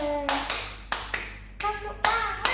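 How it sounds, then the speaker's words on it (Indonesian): Sharp hand claps land at uneven intervals, each followed by a child singing in short bursts between them. "Tepuk tangan, tepuk tangan."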